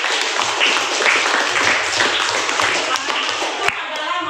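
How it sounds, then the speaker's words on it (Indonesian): Classroom applause for a student named Devi, a steady wash of many hands clapping at close range with some voices mixed in, running the whole time before dropping off near the end. "Ya, tepuk tangan kepada Devi."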